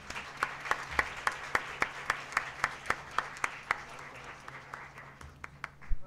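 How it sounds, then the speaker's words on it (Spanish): Brief, fairly sparse clapping at an academic civil-law conference, with sharp claps in a steady, almost rhythmic pattern from a modest audience, steady for about six seconds before tapering off, with no talk over it. "uma salva de palmas para os três"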